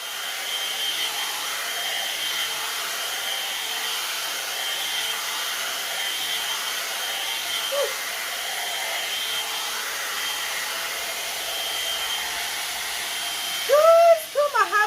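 A hair dryer blows steadily and close for the full stretch as an even, airy whir, with a few brief squeaky sounds near the end.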